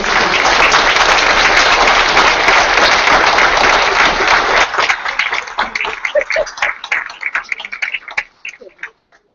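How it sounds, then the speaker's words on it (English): Audience at a school board meeting gives loud, dense applause that holds steady for several seconds, then thins into scattered individual claps that fade out. "So please give her a wonderful applause."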